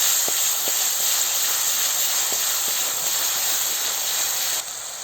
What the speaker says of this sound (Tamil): இதில் எண்ணெயிலே இஞ்சி பூண்டை போட்டு நல்லா வதக்கி விட்டுறலாம்.